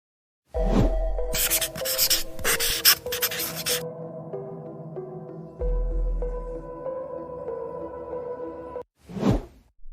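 A pen signs papers with dense bursts of scratchy writing strokes and soft paper rustling, close and steady, followed by a brief swoosh near the end.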